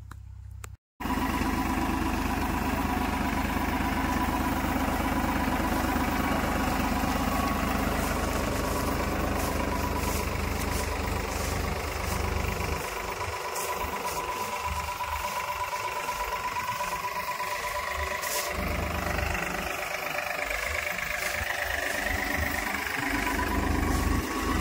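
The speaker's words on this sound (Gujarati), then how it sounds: "ટ્રેક્ટર હાલવા દઈએ અમે ધીરે ધીરે" A tractor engine runs slowly and steadily at a low idle-like pace in a hot field during groundnut harvesting, a continuous close rumble throughout with a brief dropout near the start.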